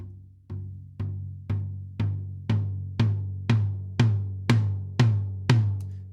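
A sampled tom drum from the UJAM Neon virtual drummer strikes eleven times at a steady pace, each hit a resonant, pitched boom with a sharp attack and a long ringing tail that overlaps the next.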